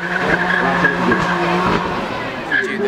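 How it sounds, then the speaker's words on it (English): A turbocharged six-cylinder supercar spins its tyres into a cloud of smoke at a supercar run event, with a loud sustained engine roar and squealing tyres up close, a voice talking over it. "Six cylinders straight into a cloud of tyre smoke."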